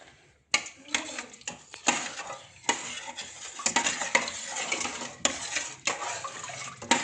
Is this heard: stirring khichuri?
yes